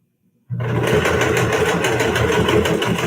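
A sewing machine stitches through a fabric face mask, kicking in abruptly after a short silence and then running as a steady, loud, fast mechanical whir with a rapid rhythmic needle patter.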